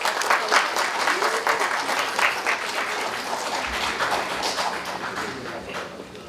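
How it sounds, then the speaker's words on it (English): A crowd at an international medical conference claps warmly to welcome the chief guest, a sustained, fairly loud round of applause with a few voices faintly underneath. "Ladies and gentlemen, please join me in welcoming sir with a warm round of applause"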